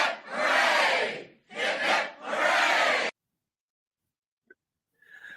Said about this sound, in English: And 3 cheers for you guys, the best fans in the world